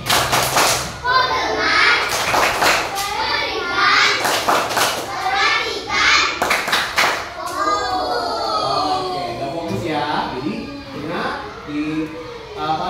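Children in a classroom do a rhythmic clapping routine, bursts of sharp group claps and thumps in a patterned beat, mixed with kids' voices chanting and chattering loudly throughout, the claps fading into talk in the later part.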